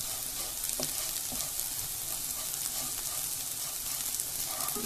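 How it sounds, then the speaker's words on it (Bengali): Slices of spiny gourd (kakrol), salted, fry over high heat in oil until crisp and brown, giving off a continuous loud sizzle with occasional small pops and stirring scrapes. "কাকরোলের ভাজাটা একটু ক্রিস্পি এবং ব্রাউন করে ভেজে নিতে হবে।"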